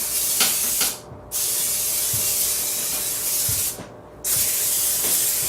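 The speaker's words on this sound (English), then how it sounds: "spray the inside of my cast iron pot" Steady hissing spray from a cooking spray can into a 12-inch cast iron pot, close by, with two brief pauses where the nozzle is released before spraying resumes.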